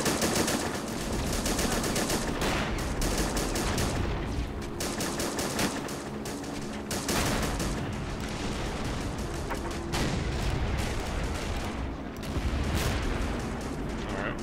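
A .30 cal machine gun in the Men of War video game fires sustained rapid bursts, dense and continuous with only short pauses, under other battlefield gunfire.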